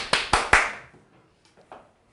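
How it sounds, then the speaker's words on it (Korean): A class of middle-school students in a math lesson claps three quick sharp times close by, then the room falls nearly quiet with a few faint taps and small sounds. "박수!"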